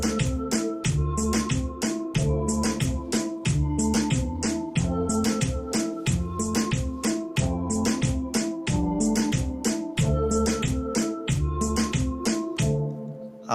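A hip-hop beat plays back during production, with punchy kicks and crisp hi-hats in a steady repeating pattern and layered melodic tones, loud and continuous without any talk.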